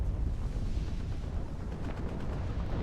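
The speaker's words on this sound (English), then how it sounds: "There you go, more bombing runs" Bombing runs and artillery strikes in the WARNO war video game, heard as a continuous low rumble of explosions and distant booming fire, heavy and sustained without a break.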